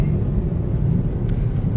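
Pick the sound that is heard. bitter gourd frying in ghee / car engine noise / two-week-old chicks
car engine noise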